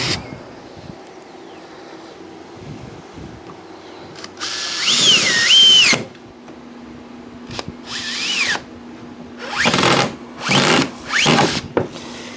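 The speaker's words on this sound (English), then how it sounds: "I'm going to drill the holes out for the ends" Power drill boring holes into boards for a rain collection frame, several short bursts of whining motor with rising and falling pitch, separated by quiet pauses and light handling noises.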